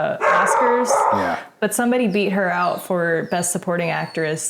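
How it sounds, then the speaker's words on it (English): Barking from a dog rings out near the start, then keeps breaking in behind ongoing conversation between people talking. "Sorry for the dog."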